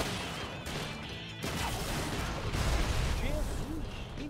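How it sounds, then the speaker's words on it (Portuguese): A transmitter explodes in the video game Sunset Overdrive: loud, crashing blasts and debris bursts roll through a dense, chaotic game soundscape while someone talks over it. "Quem diria que as explosões de transmissores são tão grandes?"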